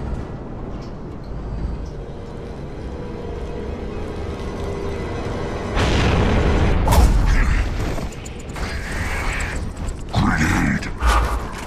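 A grenade blast in the video game Gears of War: Judgment, a loud booming burst around the middle of the clip amid continuous gunfire and combat noise, with a second heavy impact near the end.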